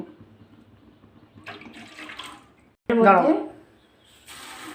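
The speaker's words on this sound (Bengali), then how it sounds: "এবার এর দুই বাটি আমি জল দেব" Water poured from a bowl into a pan of semolina for sweet halwa: a loud rushing splash of about a second and a half, after quieter kitchen clatter and talk, then a fainter hiss as it settles.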